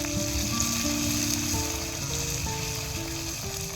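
Tomatoes go into a pan of khichdi, setting off a steady hissing sizzle. Sustained stepping musical tones play over it throughout.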